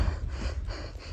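Heavy, rapid panting from someone out of breath while walking to a Khandoba temple, with short, close, rhythmic breaths repeating for about a second.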